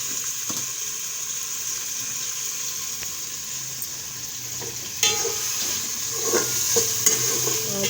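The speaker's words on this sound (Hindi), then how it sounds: "प्याज के साथ इसकी बुनाई करेंगे।" Chicken and onion fry in a pan for chicken macaroni, giving a low constant sizzle. Intermittent spoon scrapes and taps from stirring grow more frequent toward the end.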